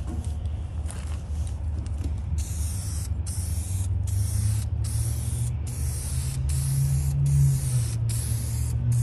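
A steady spray-gun hiss paints a custom center console for a W900 truck outdoors, pulsing in regular bursts with brief gaps over a low background rumble.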